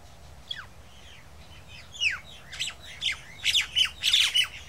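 Parent birds squawk harshly at an intruding myna near their nest, starting with a few scattered calls and building into a rapid run of loud, close, repeated squawks.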